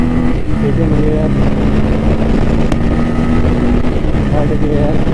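Motorcycle, a Pulsar N160 or Yamaha MT15, revving hard on a road as it accelerates through the gears, a loud steady engine drone with rising and falling pitch as gears change and a brief click midway.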